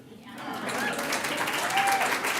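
Audience applause at an annual event for a prison-reform organization, a moderate, fairly distant wash of clapping rising steadily through the clip, with some voices mixed in.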